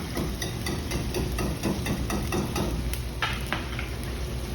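Ripe tomatoes crushed by hand in a kitchen for a homemade sauce, giving a steady run of wet squishing and stirring sounds with a few brighter splashes near the end, fairly close and without talk.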